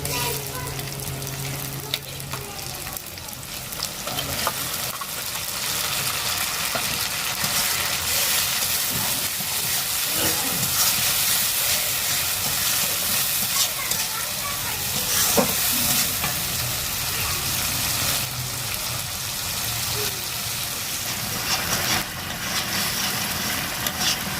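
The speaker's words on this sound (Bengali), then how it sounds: "পেঁয়াজটা তো হালকা একটু ভাজছি তো এবার পেঁয়াজ আর রসুন বাটাটাও দিয়ে দেবো" Sliced onion frying with garlic paste in a hot pan. A loud, continuous, close-up sizzle and crackle carries on throughout, broken by occasional stirring scrapes, with no talking.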